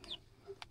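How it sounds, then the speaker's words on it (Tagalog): Chickens kept as pets cluck briefly in a Filipino household, with a short high call and a quick squawk heard faintly and close by. "Mga alaga niya po yung ano, sisiw. Mga manok."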